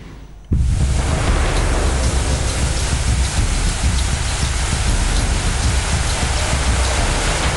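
Heavy monsoon rain pours down steadily in Gujarat, a dense, loud, continuous roar of water that starts abruptly after a brief quieter moment and holds unbroken with no voices.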